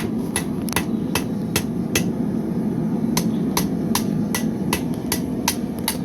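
At a blacksmith forge, a hammer strikes metal in a fast, irregular series of sharp ringing blows, close and loud over a steady low roar of the forge.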